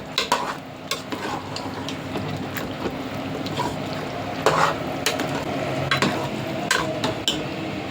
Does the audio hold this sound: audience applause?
no